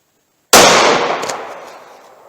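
A single loud, sharp report from a .45 ACP pistol firing Hornady Critical Duty ammunition, close by, followed by a decaying outdoor echo lasting about two seconds, no talking.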